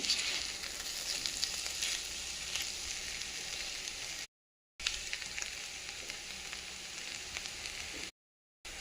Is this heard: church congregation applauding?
no